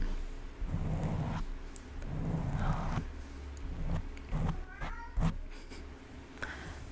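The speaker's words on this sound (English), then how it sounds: "Pardon my cats. They don't like that we're up so late." Several cats meow in short bursts at a late-night indoor setting, close and moderately loud, with soft rustling and handling noises in between.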